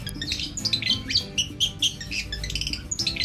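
Several caged songbirds, cendet (long-tailed shrikes), chirp and tweet in quick, overlapping bursts, bright whistled notes close by over a low background murmur, sunning in the morning.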